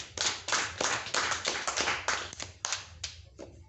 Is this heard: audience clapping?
yes